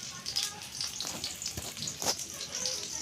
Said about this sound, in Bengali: এভাবে ডিম দিয়েও মিষ্টি কুমড়া ফুল ভেজে খাওয়া যায়